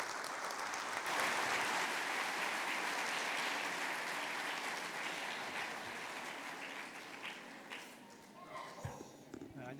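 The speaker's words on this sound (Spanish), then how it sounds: "Recibamos con un fuerte aplauso al pastor Plata de Corea y al traductor candidato" Loud sustained applause from a church congregation welcoming a Korean pastor and his translator at a Bible seminar, gradually fading toward the end with a few scattered claps and faint voices.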